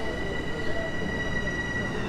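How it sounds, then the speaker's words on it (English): A Metro North commuter train headed south into New York City gives a steady interior rumble and rolling rail noise with faint high squeal, with no clear speech. "So I'm on the Metro North train right now, headed south into New York City."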